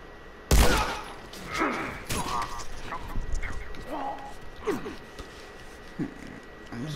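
A sharp, loud gunshot from The Last of Us, followed by scattered softer shots and scuffling game sounds mixed with voice-like grunts and breaths.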